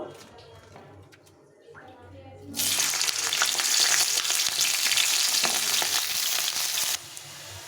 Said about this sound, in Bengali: সাদা তেল যেটা সেটা দিয়ে ভেজে নেব প্রথমে তেলটা গরম হয়ে গেছে প্রথমে ফুলকপিটা ভেজে নেব